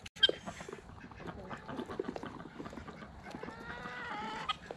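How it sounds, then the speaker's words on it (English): Guinea fowl call on a farm in a busy flock, with repeated sharp, harsh cackling calls overlapping at moderate distance and no talk. "what are these guineas doing, Juarez, huh?"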